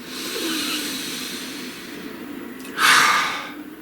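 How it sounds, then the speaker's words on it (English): A single deep breath, a soft airy inhale followed by a louder rushing exhale near the end, close and alone against quiet background hiss. "Please take a nice deep breath."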